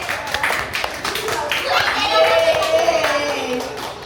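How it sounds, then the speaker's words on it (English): A group of children claps their hands together in a busy indoor activity, a steady patter of close claps running under chatter and kids' voices, with an adult speaking over it. "Clap करो जिसके हाथ में bottle हो उसके लिए"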